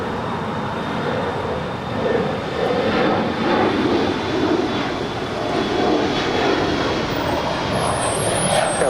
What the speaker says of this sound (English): Air Tahiti Nui Dreamliner now starting her taxi.